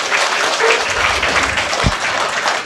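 A crowd applauds to welcome a fisheries minister onto the stage, a brief, steady burst of close hand clapping with a few low thumps mixed in.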